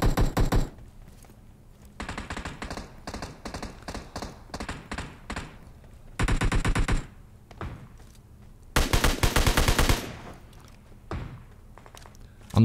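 Gunfire in a squad-based shooter game comes in several loud bursts separated by quieter gaps, with sharp repeated shots and thuds across the clip.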